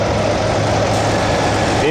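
A 1986 Foxbody Mustang engine idles close by, a steady, fairly quiet low rumble that holds constant throughout without revving.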